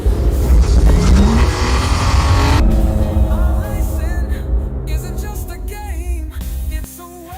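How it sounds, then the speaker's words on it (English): Race car engines in an eNASCAR championship racing video game roar loud and close, then fade as tonal voices or music take over toward the end. "And hear those engines roar."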